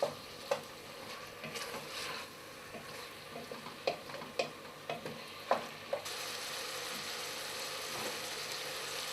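Cubed wild New Forest venison sizzles steadily in a pan, a continuous frying hiss broken by sharp clacks and scrapes of stirring, close and moderately loud with no talking.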